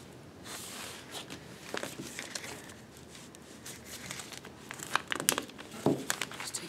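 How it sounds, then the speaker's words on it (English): Crinkly crumpling of a polypropylene plastic sheet being refolded, a steady rustle with sharper crackles and louder handling toward the end, close up with no voices. "So I can redo this fold with just 2 inches."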